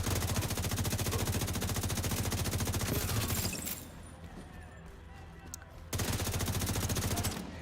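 Rapid automatic gunfire from The Division 2 video game blasts loud and continuous, drops away for a couple of seconds, then resumes in a dense sustained burst.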